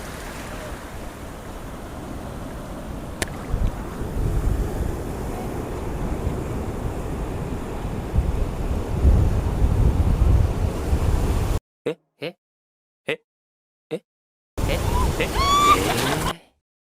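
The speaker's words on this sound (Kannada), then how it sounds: "ಕಡಲ ತೀರದ ಕಡೆಗೆ ನಾ ಸಾಗಿ ಬಂದಿರುವೆ, ಕಡಲ ಒಡಲಿಗೆ ನಾ ಬಂದು ಸೇರಿರುವೆ" Ocean surf and wind roar steadily at Panambur Beach for about eleven seconds, loud and close, then cut to brief gaps and a short burst of surf again at the end.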